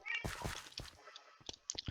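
A Minecraft cat meows in a few short, close, bright cries, separated by brief gaps, with no speech.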